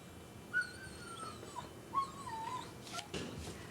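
A stranded dog whimpers during the 1997 Grand Forks river flood, giving a few thin, high, drawn-out whines, faint and fairly close, followed by some soft shuffling.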